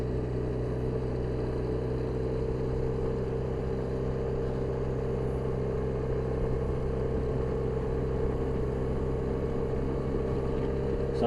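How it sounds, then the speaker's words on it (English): Scooter engine braking while descending a hill, a steady droning engine rumble with RPMs easing down from about 4,000 to 3,000, continuous and fairly close throughout. "when you're, see, going downhill, there's your engine braking. See, the RPMs are coming down."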